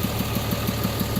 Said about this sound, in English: is how you swap an engine in an M35A2 by yourself and have it fire up on the first try.